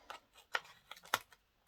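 Scissors snipping paper for a scrapbook album, a few short sharp cuts spaced irregularly, close and quiet.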